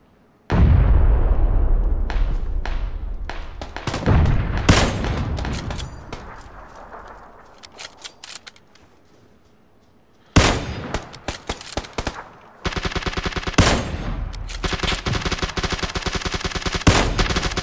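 Gunfire in the final circle of a battle royale squad match: single loud shots and sharp bursts at first, then a lull before rapid automatic fire resumes in long, dense volleys.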